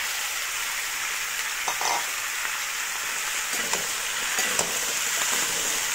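Taro and pumpkin frying together in a pan make a steady, even hiss of oil, with a few faint stirring clicks, close and without talk.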